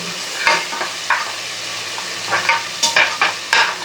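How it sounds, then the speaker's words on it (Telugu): Ginger garlic paste sizzles and fries in a pan for chicken pulao, with a steady crackle and several scraping spoon strokes close by. "ఒక టీ స్పూన్ అల్లం వెల్లుల్లి పేస్ట్ వేసుకొని బాగా వేయించుకోవాలి."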